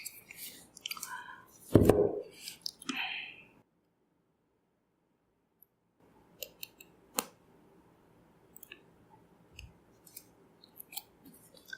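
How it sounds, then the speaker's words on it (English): Close, quiet rustling and scraping of cardboard and paper as a Google Pixel 3 XL phone box is opened, with a sharp tearing or cutting noise, a short silent gap, then soft scattered clicks and handling sounds. "Okay, so let's unbox."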